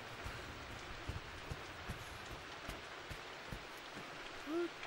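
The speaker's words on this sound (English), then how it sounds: "It's raining in the house." Rain falling indoors inside a run-down manor in the Rise of the Tomb Raider video game, a soft continuous patter with scattered louder drips, faint and steady, with a brief low tone near the end.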